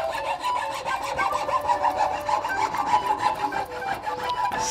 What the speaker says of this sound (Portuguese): Vou dar uma leve serrada aqui e em volta, onde eu fiz o risco, com o arco de serra mesmo, com o serrote